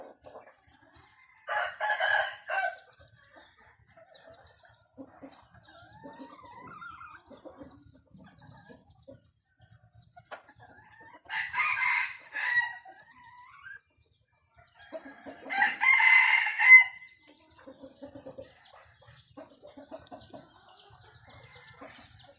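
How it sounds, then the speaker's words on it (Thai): A bantam breeding rooster crows three times, each call loud, close and a couple of seconds long, separated by quieter gaps with faint background clucking. "ขันเก่งนะครับ ไก่พ่อพันธุ์นะครับ"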